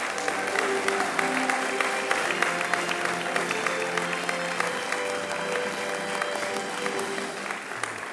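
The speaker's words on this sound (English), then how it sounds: "With a round of applause, Professor Roger Hossain." Audience applause at a university research awards ceremony honoring a professor, sustained steady clapping from a large crowd filling the whole stretch without a break.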